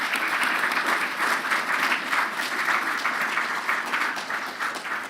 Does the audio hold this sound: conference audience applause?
yes